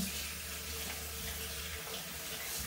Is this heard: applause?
no